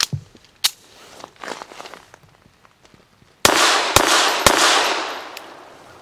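Five sharp, loud shots from a Llama Micromax .380 1911 pistol firing Hornady Critical Defense 90-grain hollow-point rounds: two spaced reports, then a quicker string of three, each with a short ringing tail.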